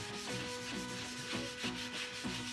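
Dark wax being buffed into a furniture piece over a heavy top coat with a cloth, heard as repeated rhythmic rubbing strokes, close and steady, with no talking.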